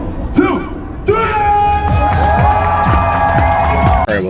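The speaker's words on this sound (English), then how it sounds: "Everybody clap your hands. Clap, clap, clap, clap." A lively crowd cheers and shouts while rhythmic clapping thumps along, loud and close, with excited voices and talking riding over the noise.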